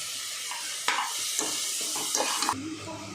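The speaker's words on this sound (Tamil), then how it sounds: "சீக்கிரம் வெங்காயம் வதங்கும்" Onions and green chillies sautéing in a pan for a Kashmiri-style mutton rogan josh, a steady close sizzle broken by a few stirring scrapes and light clinks of a utensil against the pan.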